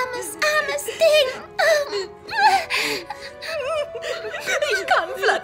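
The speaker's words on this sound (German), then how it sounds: "Ich kann Fluttershy nicht weinen sehen." Cartoon pony character crying in the German dub of My Little Pony, a wavering high-pitched whimpering and wailing voice in rising and falling sobs, close and loud.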